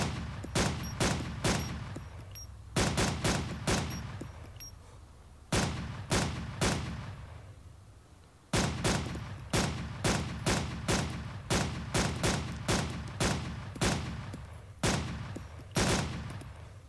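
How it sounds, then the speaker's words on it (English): A semi-automatic rifle fires repeatedly in the ARMA 2 video game, with loud sharp shots coming in quick bursts of several rounds separated by short pauses, each shot trailing a brief echo. "So repeating fire with the semi-automatic is going to decrease accuracy, but if you've got it, you might as well use it."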